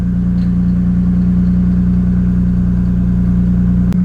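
A Nissan R32 Skyline engine runs steadily at a loud, constant pitch for the whole stretch, with no breaks and no talking.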